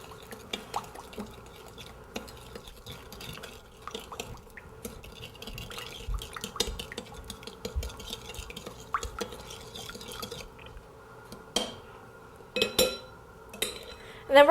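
A vegetable or canola oil dressing stirred in a bowl for an oriental chicken salad, with soft scraping, clinks of a utensil against the bowl and liquid sloshing, the clatter growing louder near the end.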